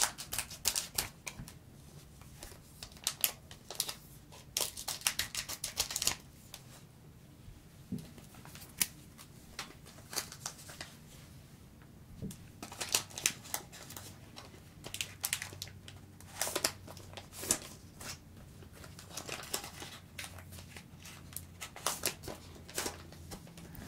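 Pokémon card packaging is opened up close with soft crinkles, sharp crackles and tearing clicks in irregular bursts over a quiet background, with long stretches of small rustling.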